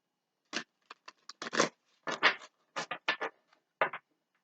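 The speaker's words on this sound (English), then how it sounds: "Give it one more shuffle." Tarot of Dreams deck being shuffled by hand, a quick run of crisp riffling card patters and scrapes in short bursts, close and fairly quiet with no talking.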